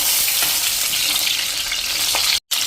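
Green chillies sauté in hot oil in a pan with a dense, continuous loud sizzle and crackle close up, faint stirring scrapes underneath, and a brief gap near the end.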